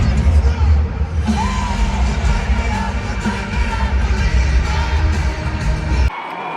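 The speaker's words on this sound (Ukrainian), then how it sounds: "Всі його вітали, всі йому аплодували, аплодували, раділи." A concert crowd at a show cheering and applauding, a loud dense roar of voices and clapping that holds steady before cutting off abruptly near the end.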